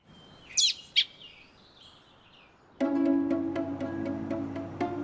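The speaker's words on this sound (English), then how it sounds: "In the bird section, Head of Birds Lorraine has been busily caring for thousands of baby birds." Baby birds at a rescue centre: two sharp high chirps over a quiet background, then a sustained run of close, repeated begging calls.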